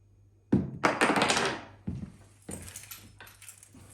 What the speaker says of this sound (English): you have to listen to the initial thud because of course it's going to bounce around onto the floor